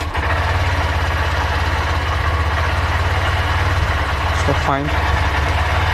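A Honda Shine BS6 motorcycle with a newly fitted dual headlamp harness runs at a steady, close idle right after starting, and a short spoken remark cuts in partway through.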